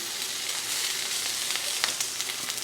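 An egg frying in a pan, a continuous close sizzle with a few sharper crackling spits toward the end, no talk.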